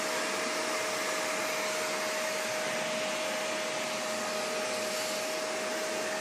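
A vacuum cleaner runs steadily and loudly throughout, a dense broadband roar with a constant whining tone and no breaks, cleaning a house in autumn.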